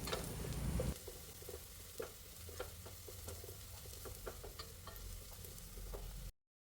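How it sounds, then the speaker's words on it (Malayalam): Chopped shallots sauté in a pan during garlic rice preparation, a constant gentle sizzle broken by occasional light stirring taps, moderately quiet and close. "ഇനി അതിലേക്ക് ഒരു വളം ചെറിയുള്ളി അരിഞ്ഞത് ഇടാം ഈ ഉള്ളിയും കൂടി ഒന്ന് വാടണം"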